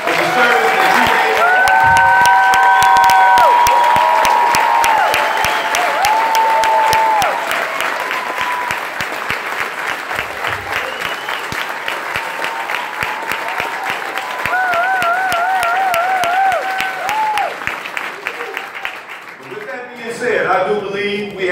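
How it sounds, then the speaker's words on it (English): Conference audience at a human rights gathering applauds military veterans who have stood up, sustained loud clapping filling the hall for about twenty seconds, with voices and cheers mixed in before it thins out at the end. "Let us applaud you for the service that you gave."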